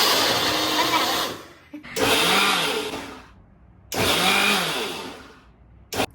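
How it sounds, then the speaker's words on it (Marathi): Electric kitchen mixer blending avocado ice cream, whirring in three loud, close bursts separated by short pauses, with a falling whine as the motor slows after each burst. "आता मिक्सर कसा लावायचा त्याचा ट्युटोरियल आहे"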